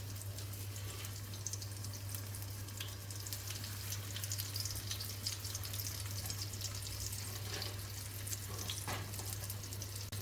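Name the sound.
breaded pork frying in a pan of hot oil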